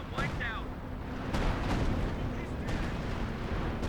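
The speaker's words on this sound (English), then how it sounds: "But still loses some to the artillery strike." Artillery strike in Company of Heroes 2, a dense battle soundscape of heavy booms and rumbling explosions layered over continuous gunfire, with a commentator's voice running over the combat.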